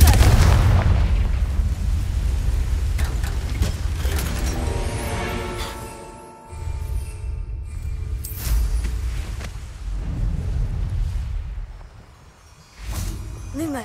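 Repeated Confringo fire spells blasting in Hogwarts Legacy, several booming explosive bursts with whooshing tails, loud and close, separated by short lulls.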